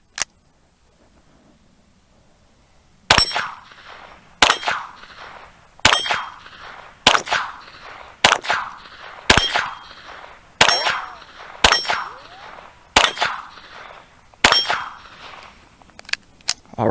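A Colt Pre Woodsman .22 LR fires about ten shots at a steel dueling tree outdoors, each sharp crack followed by a ringing metallic clang, spaced roughly a second or so apart after a quiet opening.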